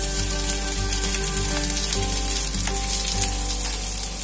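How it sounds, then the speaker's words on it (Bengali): Chopped onion with red and green capsicum fries on high flame for chilli chicken, giving a dense, continuous, close sizzle and crackle with a steady low hum beneath and no pauses. "এবার হাই ফ্লেমে সবগুলোকে একটু ভেজে নেব।"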